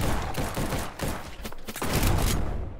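Shotgun blasts in a video game come as loud, repeated booming bursts packed close together amid dense game noise, with no voices over them.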